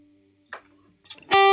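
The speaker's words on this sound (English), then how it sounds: "you get a more warm reverb sound." Electric guitar through a Kemper Profiler reverb with the high frequencies cut, giving a warmer tone: a few sparse picked notes, then a loud sustained chord ringing out alone at the end.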